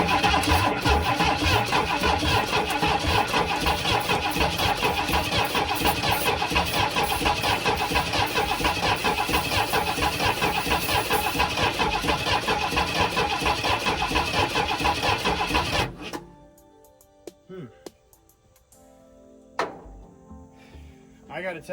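A party barge boat's engine cranks continuously for about sixteen seconds with a loud, rapid, rhythmic starter churn, then stops and leaves quiet handling sounds.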